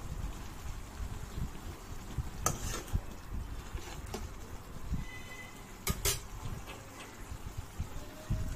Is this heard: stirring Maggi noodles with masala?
yes